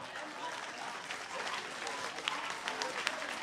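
An audience at a religious gathering bursts into applause and acclaim for Jesus, a dense wash of clapping and cheering voices at moderate volume with a few sharper claps toward the end.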